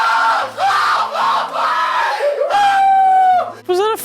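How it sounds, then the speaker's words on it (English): Synthetic effect of angry shouting voices mixed with agitated chickens: loud overlapping yells and cries, then squawking clucks that rise sharply near the end, all close and harsh. "I hear like, shut up! Go away! And then just a bunch of angry chickens."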